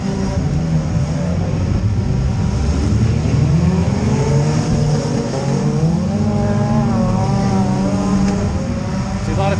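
A demolition derby car's engine roars loud and close while being driven, its revs rising and falling in steady waves with no talk over it.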